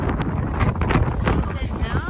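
Steady desert wind buffets the microphone in gusts and low rumbles at a campsite, loud and close throughout, with a voice briefly speaking over it.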